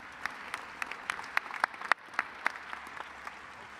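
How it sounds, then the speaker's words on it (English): Scattered clapping at a charity fundraising gala for NF, with a modest crowd producing distinct individual claps in a loose, uneven rhythm against a quiet hall. "Come on, let's get the applause going, folks."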